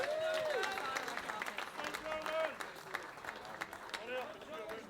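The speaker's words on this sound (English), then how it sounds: "I guess we better have a round of applause for our Scottish referee, Jordan Forbes." Audience applause and cheering for a Scottish referee at a British Internationals darts event, a steady crowd wash lasting throughout, with an announcer talking over it.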